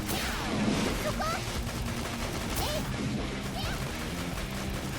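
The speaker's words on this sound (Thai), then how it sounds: "โอเคมันใช้ปืนยิงแล้วมั้ง" Rapid bursts of gunfire in the horror video game Dead or School, with sharp repeated shots and crashing impacts over a busy game soundtrack, while someone talks over the action.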